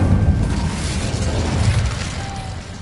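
Incendio fire spell cast in Hogwarts Legacy, a loud whooshing burst of flame that swells at once and rolls on as a dense, steady roar for about three seconds, with no talk.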